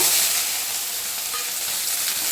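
Small onions fry in hot oil in a pan for a tomato curry, a loud steady close-up sizzle with crackling hiss throughout and no talking.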